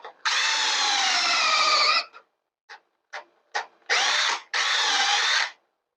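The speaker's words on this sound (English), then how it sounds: "going to drill some pocket holes in them now" A cordless power drill bores pocket holes in wood, running in two long steady whines, then several short trigger bursts, and ending with two more sustained runs, close and loud with no talking.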